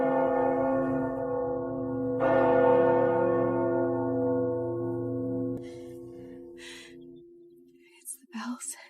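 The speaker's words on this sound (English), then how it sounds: "It's the bells." Church bells ring for a wedding, a loud sustained peal of resonant tones that swells midway and then fades, followed by faint whispering voices.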